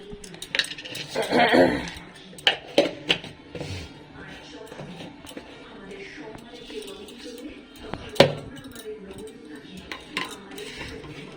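Tea cups, plates and cutlery clink and clatter in a home kitchen, with a dense burst of clinking early on and sharper knocks later, a quiet voice murmuring in the background.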